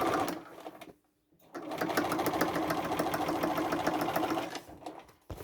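A sewing machine top-stitches a red velvet tote bag in a fast, close, steady mechanical whirr, briefly stopping near the first second and then running on continuously before slowing at the end.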